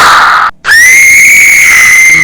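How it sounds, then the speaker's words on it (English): A high, sustained scream effect for a scary story, a loud shriek with a steady pitch that cuts off briefly and then resumes, holding strong for about two seconds with no talk. "Then it was Rosie's turn to scream."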